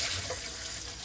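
Water pours steadily from a cup over peanuts for porridge, a continuous close splashing rush that lasts about a second.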